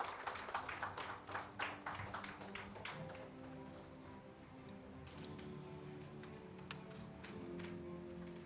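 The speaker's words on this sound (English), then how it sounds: "Huge round of applause for Sir." At an awards conference in Mumbai, a sparse audience claps in distinct, separate smacks near the start. The clapping then thins out while background music carries on quietly underneath.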